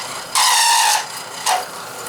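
A drill bores a hole in stringy aluminum stock, the cut interrupted to break the chip: a loud, bright whine for about half a second, a pause, then a second, shorter burst.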